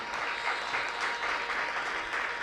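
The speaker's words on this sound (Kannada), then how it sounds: "ಒಂದು ಜೋರಾದ ಚಪ್ಪಾಳೆಗಳನ್ನು ಅಭಿನಂದಿಸೋಣ" An audience at a classical music programme gives sustained applause, a dense steady patter of many hands clapping together at moderate volume throughout, with no break or voices standing out.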